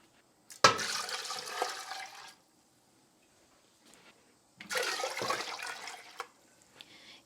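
Warm non-chlorinated water at 110 degrees poured from a tap into a pot of cheese curds, two separate splashing bursts of running water, each a couple of seconds long, with quiet between them.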